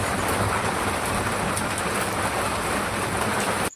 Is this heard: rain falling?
yes